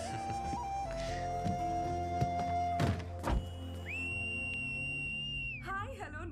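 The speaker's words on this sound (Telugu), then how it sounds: "ఏంట్రా ఈ పిల్ల రౌడీలాగా విజిలేస్తుంది?" A girl whistles loudly in a long, piercing, steady tone that rises and holds for well over a second, then breaks off. Thumps and knocks come just before it, with a lower held tone underneath.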